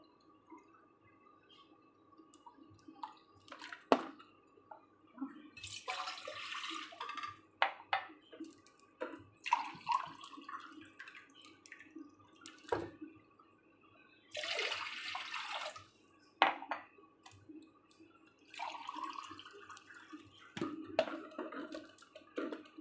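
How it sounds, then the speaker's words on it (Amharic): A container being filled with water for a sweet milk pudding gives intermittent bursts of pouring and splashing, separated by quiet gaps and small knocks, close by and fairly soft. "እዚህ ውሃችንን እንሞላለን።"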